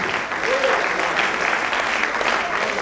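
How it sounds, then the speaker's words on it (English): An audience at the Dietitians Association of Nigeria national conference keeps clapping: a steady, dense wash of applause from a large crowd, even in loudness throughout. "are you still clapping?"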